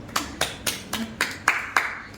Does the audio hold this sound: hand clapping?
yes